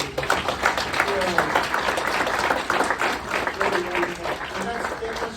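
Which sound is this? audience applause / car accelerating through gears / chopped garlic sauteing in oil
audience applause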